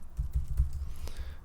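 A short burst of typing on a computer keyboard while entering text into an Excel spreadsheet, with several close, quiet key clicks in quick succession and no speech.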